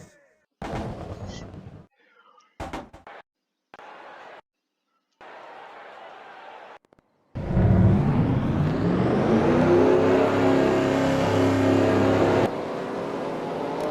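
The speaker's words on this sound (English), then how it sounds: "Drivers, start your engines!" Race car engines at the start of a stock truck race in Atlanta rise into a loud, sustained revving roar of many vehicles after several short choppy bursts of sound.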